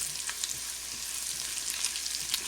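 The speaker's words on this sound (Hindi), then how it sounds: "इसको भी इसमें फ्राई कर लेंगे।" Cumin seeds frying in hot oil for lentil dal, a soft, steady sizzle with small crackling pops, close and fairly quiet, no talking.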